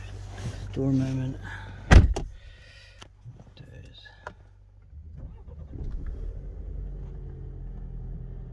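An Alfa Romeo Giulia 2.0 T Super car door slams with a sharp, solid thud, followed by softer clicks and handling sounds, then a low steady hum; a voice speaks briefly beforehand.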